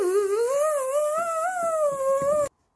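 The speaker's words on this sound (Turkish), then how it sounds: "Evet, bu uçağın sesiydi." A whining airplane sound from a video game rises and wavers in a sustained tonal drone for about two and a half seconds, loud and alone, then cuts off abruptly.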